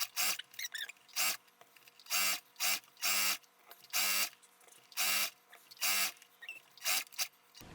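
A sewing machine stitches a fabric edge on Christmas dog accessories in a string of short, close whirring bursts separated by brief pauses, with no voices.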